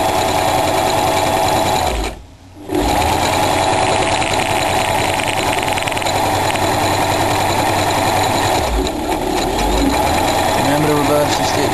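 A sewing machine stitching fabric for a homemade messenger bag, a fast buzzing motor rattle running nearly continuously, pausing briefly once and dipping again later, close and loud.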